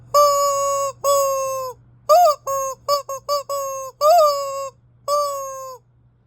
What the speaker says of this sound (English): Now we got a chicken. You can listen to the sound.